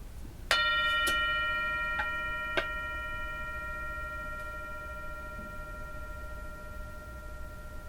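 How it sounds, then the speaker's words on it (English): A bell is struck a few times in quick succession, then its clear ringing tone hangs and slowly fades over steady background hiss. "I'm going to ring the bell, and I'm going to ask you to listen carefully."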